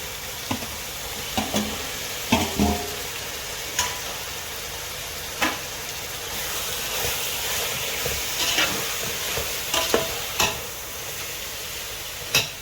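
Mutton and tomatoes fry and get stirred in a pan for green mutton biryani: a steady close sizzle, broken by sharp spoon clinks and scrapes against the pan.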